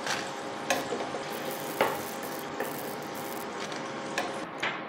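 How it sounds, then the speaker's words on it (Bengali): Steady, dense sizzling of potato chips frying in hot oil, with a few sharper clicks and scrapes of stirring scattered throughout. No talking. "এইভাবে সব আবার গোল্ডেন কালার করে ভেজে নেবো।"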